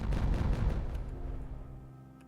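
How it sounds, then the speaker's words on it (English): Dynamite blast in the city-building game Timberborn: a dull, rumbling detonation with crackling debris that swells briefly, then fades away over about two seconds. "I'm just going to hit detonate on this"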